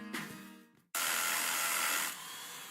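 Bosch Bulldog rotary hammer blasting through concrete in an advertisement: a short tonal lead-in, a brief gap, then a sudden loud, dense, sustained drilling roar that eases slightly toward the end.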